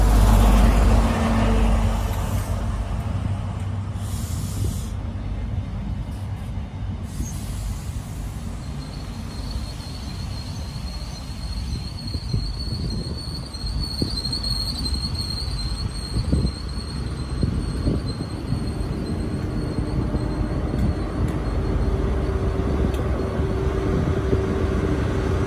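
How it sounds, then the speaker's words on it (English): Great Western Railway train 43097, the 12:54 service from Taunton to Cardiff Central, passes through Worle station with a sustained loud rumble and rail noise, plus a high whine that swells midway. "Passing out now is the 1254 Great Western Railway service from Taunton to Cardiff Central."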